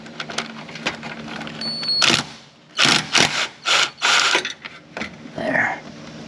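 Ratchet wrench clicking in quick bursts while working on the alternator of a 2013-2014 Honda CR-V, with short metallic rattles and pauses between strokes, close and fairly loud.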